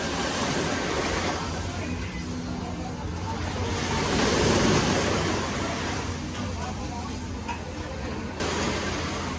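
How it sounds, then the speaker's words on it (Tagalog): Surf on a beach at Boracay washes in steadily, a soft broadband rush that swells and recedes over several seconds, with faint wind and no voices. "Naririnig niyo ba yung tunog ng alon?"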